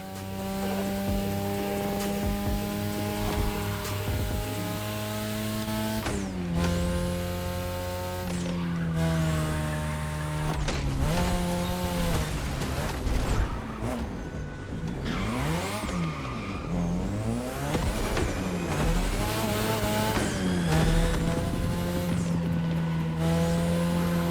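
A 2002 third-generation Mazda RX-7 with a rotary engine races in The Crew Motorfest, its loud engine droning and rising through gear shifts while tires squeal and skid repeatedly through corners, close and continuous without talk.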